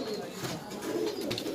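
Bhure Bajre pigeons coo softly in a loft, their low murmuring calls overlapping throughout the short stretch against a busy background with voices mixed in.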